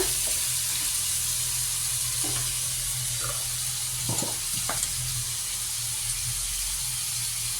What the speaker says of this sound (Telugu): ఇప్పుడు నేను ఉల్లిపాయలు వేస్తున్నాను. 3 మీడియం సైజ్ ఉల్లిపాయలు తీసుకున్నాను. దీంట్లో కాస్త ఫ్రై అయినాక